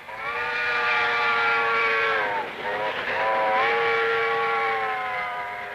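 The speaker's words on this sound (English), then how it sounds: "do you hear how that train whistle that you just heard and saw, do you hear how it dropped in pitch?" A passing train's whistle sounds loud and sustained, its stacked tones sliding down in pitch midway as the train goes by, a clear Doppler drop with steady rumble underneath.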